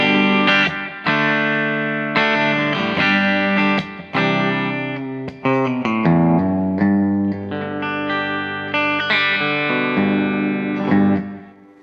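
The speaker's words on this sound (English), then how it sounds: "So at the moment, this is like my always on slapback delay." Electric guitar played through a slapback delay pedal into amps, a loud run of chords and single notes with short echoes trailing each attack, ending on a sustained chord that is cut off.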